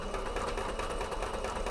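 A sewing machine hums along at a steady pace, stitching a cape mock-up, its continuous close mechanical whir filling the short stretch without any voices.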